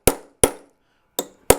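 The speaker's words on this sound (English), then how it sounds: "grab a trusty chasing hammer, and start to drive that" Four crisp metallic strikes of a chasing hammer on a steel drift punch, driving a wedge into a jewelry hammer's handle, two quick blows then a pause and two more, close and alone.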